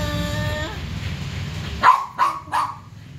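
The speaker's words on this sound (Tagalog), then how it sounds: "Ayan po ang aking aso yun sa loob." A dog barks indoors in three short, sharp yaps that stand out after an earlier stretch of tonal background sound, fairly close and loud.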